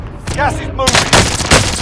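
Gunfire in the video game Warzone Rebirth, with rapid close bursts of automatic shots. Game voices call out over the shooting.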